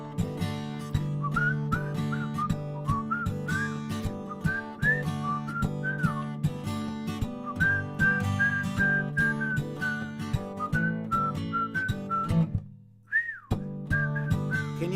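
A person whistles a lively, melodic tune alone and close up, with brief pauses between phrases and a short rising slide near the end.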